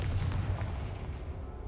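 A Confringo blasting spell explodes in the Hogwarts Legacy video game, a dull low rumbling boom that rolls on for under two seconds with no speech over it.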